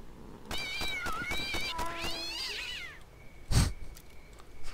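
Several cats in the S.T.A.L.K.E.R. game meow and caterwaul in quick overlapping calls, followed by a sharp low thump and a lingering tone.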